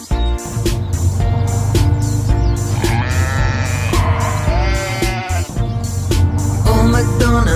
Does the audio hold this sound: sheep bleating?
yes